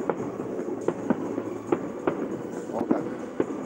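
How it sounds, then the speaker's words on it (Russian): Fireworks bursting over the southern Crimean coast near Gaspra on the Black Sea, a run of distant booms and crackles coming at irregular intervals through a steady ambient wash. "вам фейерверк с берега Южного Крыма"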